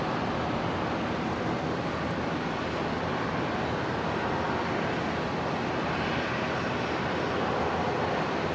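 A Jetstar airliner arriving from Newcastle lands on runway 01 right at Brisbane Airport, a broad, steady jet roar that stays loud and continuous throughout, with no voices.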